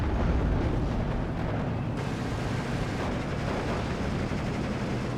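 Deep rumbling booms and blasts of mortar fire roll continuously in the video game Steel Division 2, a heavy wash of distant explosions with crackling gunfire bursts, no talking.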